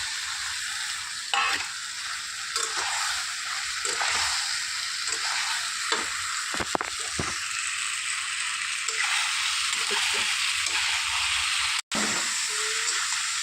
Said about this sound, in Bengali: এখন আমি এখানে ভেজে রাখা সবজিগুলো ঢেলে দেবো।